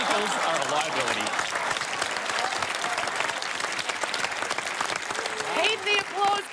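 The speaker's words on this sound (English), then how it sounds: "Keep the applause going" A studio audience at a comedy panel show applauds loudly and continuously, with crowd noise and some voices mixed into the sustained clapping.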